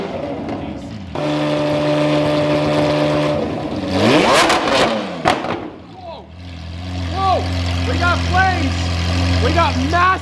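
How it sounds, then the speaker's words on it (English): A Lamborghini Aventador LP700-4 with an Fi valved exhaust idles loudly, then blips through several sharp, rising revs with crackling pops, close and very loud. "We're just letting the Aventador warm up right now, and then we're gonna rev it."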